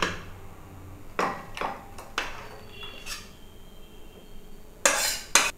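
Thick Bengali-style mango chutney is tipped from a cooking pan into a bowl, with a few sharp metallic clanks and scrapes of a spoon against the pan spaced across the pour, ending in a louder double clatter.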